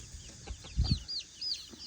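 Chickens cluck nearby in short, irregular bursts, with a few soft squawks and faint high chirps mixed in, fairly close and clear.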